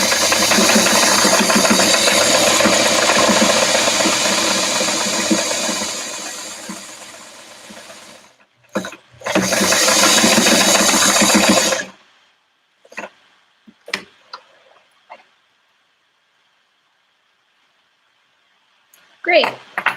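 A sewing machine stitches both sides of a homemade fabric face mask, running in a loud continuous whir, pausing briefly, running again, then giving way to a few scattered clicks and handling noises.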